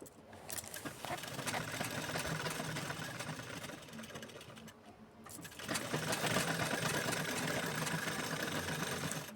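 A sewing machine stitches a blouse in steady fast runs, pausing briefly near the middle before resuming louder, close and alone.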